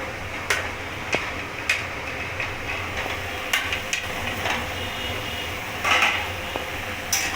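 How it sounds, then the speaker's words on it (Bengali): Diced potato, papaya and carrot fried with spices in a pan, a steady low sizzle punctuated by repeated sharp taps and scrapes of a spatula against the pan at irregular intervals. "এবার ভালো করে নাড়িয়ে নেব আলু পেঁপে আর গাজরটাকেও মশলার সাথে ভালো করে ভেজে নেব"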